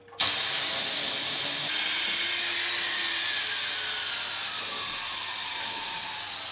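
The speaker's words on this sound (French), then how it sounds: "Vous entendez le sifflement de la cocotte, cela veut dire que c'est prêt." A loud, steady hiss of steam jetting from a pressure cooker valve as the cooker whistles, continuous and close, swelling slightly partway through before holding strong to the end.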